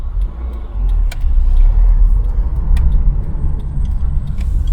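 Peugeot 106 hatchback driving along a road, its engine a steady, loud low rumble with road noise heard from inside the cabin, with a few faint ticks and no talking.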